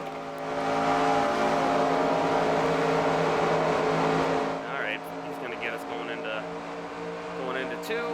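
A NASCAR race car engine in the NASCAR Racing 2003 video game at Atlanta roars loudly as it revs up, then drops in pitch and climbs again after an upshift into third gear, with some speech mixed in.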